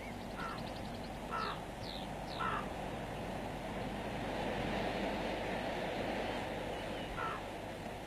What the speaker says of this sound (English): On the steep snow walls and icy faces, a group of ravens has gathered,